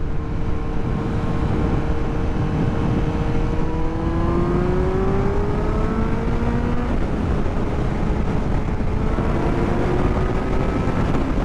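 A Kawasaki Z900 motorcycle with a Corbin seat pulls hard through the gears on the road, its engine note climbing, shifting and climbing again under steady wind rush, heard from the rider's position without talk.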